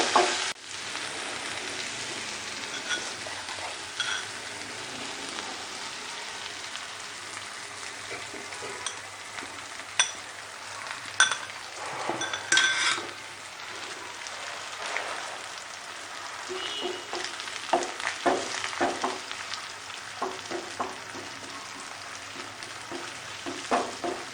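Egg for a ginger omelet frying in a pan, a steady close sizzle with scattered crackles and brief stirring or scraping sounds, no voices.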